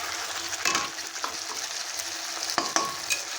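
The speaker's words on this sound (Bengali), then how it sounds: "স্বাদ মতন নুন দিয়ে নেড়ে পেঁয়াজটাকে ভেজে নেব।" Onions, salted to taste, sizzle in a hot pan for gondhoraj chicken while a spoon stirs them, sending a few sharp scrapes and clatters over the steady frying hiss, close by and without talk.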